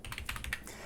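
Quiet, quick keystrokes on a computer keyboard patter in a short burst of several taps, with no voices.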